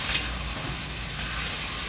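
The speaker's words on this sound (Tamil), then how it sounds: "இஞ்சி பூண்டு போடுங்க, வதக்கிட்டு" Ginger and garlic sizzle steadily in a hot pan while being sautéed, a dense continuous hiss with no talking.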